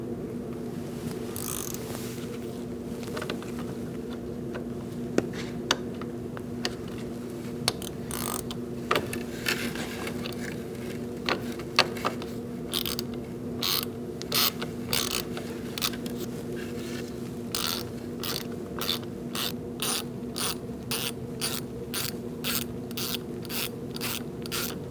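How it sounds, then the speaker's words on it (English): Ratchet turning a T20 Torx bit to remove a bolt from a 2004–2012 Chevy Colorado passenger seat recliner handle, a long series of quick clicking ratchet strokes, sparse at first, then fast and regular, close under a low steady hum. "Using a T20 Torx bit,"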